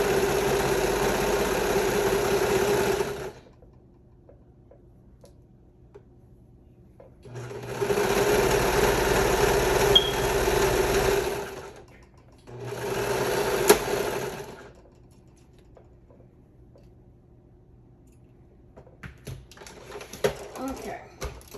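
A sewing machine stitches fabric for a pair of shorts in three loud, close bursts of steady rapid whirring, separated by quiet pauses, with faint handling noises near the end.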